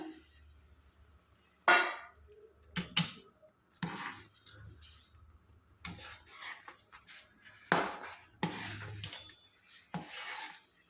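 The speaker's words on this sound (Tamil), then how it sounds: "நல்லா கிளறிட்டே இருங்க." Rava kesari with sugar being stirred in a pan: a spoon scrapes and knocks against the pan in irregular close strokes, with brief louder scrapes and taps separated by quiet pauses.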